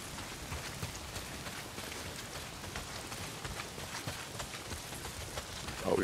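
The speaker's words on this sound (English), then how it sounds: "Well, not if it's pissing down rain." Steady rain pours down in the video game Days Gone, a dense, continuous hiss of drops hitting surfaces that holds evenly throughout with no voices.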